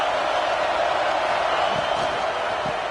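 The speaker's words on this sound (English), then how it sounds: "Listen to this crowd just shaking the girders of this place, trying to help their defense" A packed college football stadium roars in a dense, sustained wall of crowd noise, loud and unbroken, rallying behind the home defense with a commentator's voice underneath.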